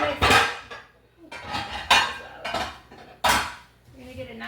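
A 9 by 13 baking dish is pulled out of a kitchen cupboard with a few loud clattering knocks and scrapes of cookware, spaced unevenly and heard up close.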